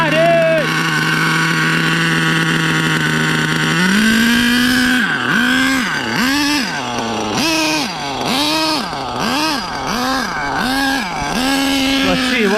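An Exceed Madstorm RC car fitted with an HPI Savage nitro engine idles loudly and steadily, then revs in a rapid series of sharp, buzzing bursts that rise and fall repeatedly, close up.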